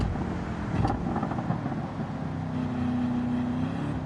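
Racing car engine in a racing video game, a steady loud droning roar holding a sustained tone that rises slightly near the end, heard on its own without talk.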